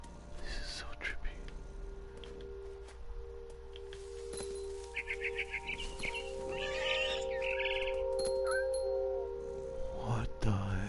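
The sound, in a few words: barn swallow chirping in What Remains of Edith Finch video game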